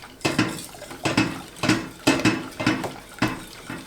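A spoon stirs rhubarb compote in a small saucepan, giving repeated clinking scrapes against the metal in a quick, regular rhythm, close and clear with no talking.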